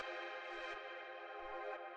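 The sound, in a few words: FM synth sine-wave chord through a bandpass filter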